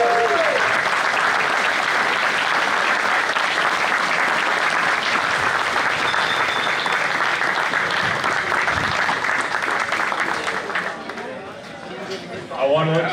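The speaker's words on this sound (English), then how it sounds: "I think we need to give these guys a big round of applause" Sustained applause from a large audience honoring skydive altitude record breakers, loud and dense for about ten seconds before thinning out, with a few voices near the end.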